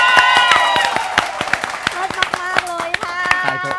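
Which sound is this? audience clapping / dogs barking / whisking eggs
audience clapping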